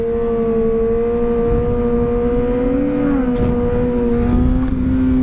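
Sport bike engine held at a steady high rev during a wheelie, a loud continuous drone with a slight pitch rise and dip near the end, running alone without talk.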